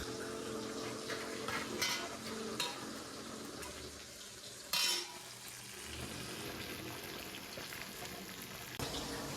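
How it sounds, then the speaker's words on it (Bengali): Pieces of katla fish frying in a home kitchen, a soft sizzle broken by stirring and the clatter of a utensil against the pan, with one sharper knock midway. "দেখো না, এই গরমের মধ্যে এই কাতলা মাছ ভাজছি।"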